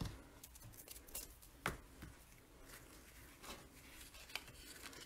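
Scissors snip ribbon ends on a paper craft project, giving a few short, light cuts with faint rustling between them, close and quiet with no talking.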